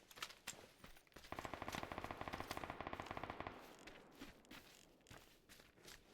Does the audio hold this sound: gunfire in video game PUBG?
yes